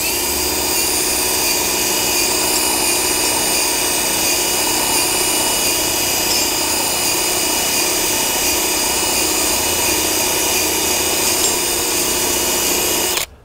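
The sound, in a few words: power drill unscrewing ratchet binder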